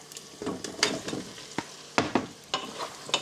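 Pork ribs frying in a pan with garlic, ginger and onion, a constant crackling sizzle broken by several sharp scraping stirs of a utensil against the pan, close and clear.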